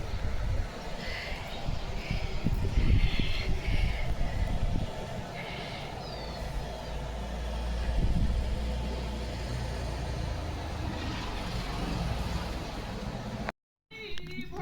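Cars go by on a road in steady traffic, a continuous mid-range engine rumble that swells and fades as vehicles pass, with a brief dropout near the end and a faint voice underneath.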